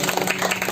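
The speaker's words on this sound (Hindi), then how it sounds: "एक जोरदार ताली से उनको आशीर्वाद दें" Audience clapping at a live devotional music program in Gayghat, a dense, steady patter of many hands filling the short moment without pause.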